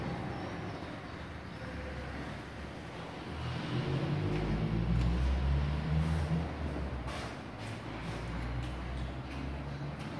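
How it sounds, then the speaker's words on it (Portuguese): Car engine cranked and revved hard during a cylinder compression test, with a pressure gauge fitted to the first cylinder: a mid-level engine roar that swells around the middle and then settles into a steady run, no talk. "Tem que acelerar até no fundo e ligar o carro."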